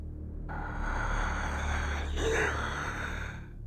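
Several gasps are heard from behind a door as it is pushed open. The breathy sounds come in close succession over a low rumbling drone, with a brief sharp noise partway through.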